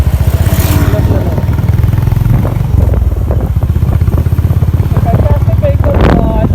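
A Honda H'Ness CB350 motorcycle on a test ride gives a steady, loud, close thumping exhaust note that rises and falls slightly, with voices partly over the engine.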